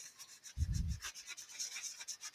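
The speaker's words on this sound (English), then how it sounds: "Use this little sanding block." Abrasive rubbing and scraping of a sanding block across a glossy Starbucks cup, a few quick close strokes with a brief low thump near the start.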